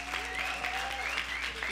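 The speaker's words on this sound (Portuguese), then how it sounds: "Uma salva de palmas aí para a Joy." Applause from an audience at a talk session, steady clapping filling the clip with voices and faint tonal sounds over it.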